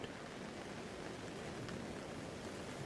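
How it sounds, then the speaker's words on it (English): Gentle rain falls steadily on a tent, a soft, even hiss close by with no distinct drops or voices. "Even the rain itself is gentle, wrapping you in a cocoon of sound"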